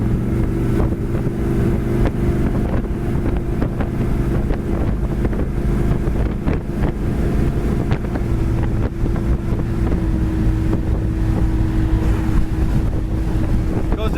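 A 1966 Chevy Chevelle Malibu convertible drives down the road with a loud, steady engine and road rumble under heavy wind buffeting that stays constant throughout, with no one speaking.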